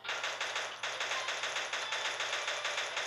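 Rapid gunfire from the mobile shooter Pixel Gun 3D, a steady stream of evenly spaced loud shots rattling without pause for the whole stretch, close and dominant with no talking.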